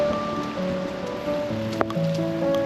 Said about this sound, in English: here comes the rain. You can hear it.